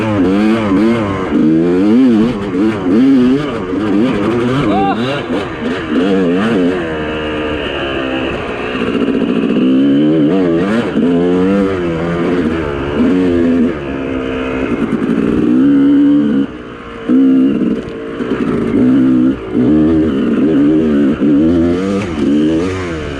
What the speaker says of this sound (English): Got exhaust leak, man.